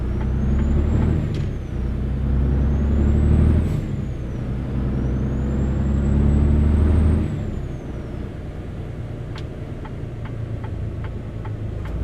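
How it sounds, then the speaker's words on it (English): A heavy truck engine drones and rises in pitch, with short air brake hisses and sharp ticks near the end; the whole thing sounds synthetic and game-like. "This truck doesn't have a bad sound to it."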